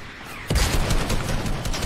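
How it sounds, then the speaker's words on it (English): Gunfire from real players in a Fortnite match, a sudden loud volley of rapid shots that starts abruptly and keeps rattling, close and dense, with no talk. "Getting shot up by real players."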